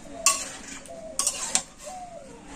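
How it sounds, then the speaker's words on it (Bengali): Tomatoes stirred in a kadai pan for preserving, a few sharp metallic scrapes and clinks of a spoon against the pan spaced over a quiet background, close by with no talking. "আর এখন আমি কন্টিনিউ কিন্তু এইভাবে নাড়াচাড়া করে নেব।"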